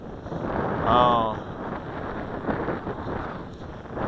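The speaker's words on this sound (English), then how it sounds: "even with the wind being so hard as the way it is right now" Strong wind buffets the microphone while a Walkera QR X350 Pro quadcopter hovers outdoors, a steady loud broadband rush with a brief swell early on and a faint high rotor whine.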